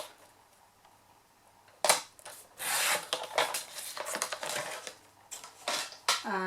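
Stampin' Up designer series paper being cut to 8 1/4 by 8 1/4 inches for a card: a quiet start, then close scraping, slicing and rubbing strokes in uneven bursts, with no talking.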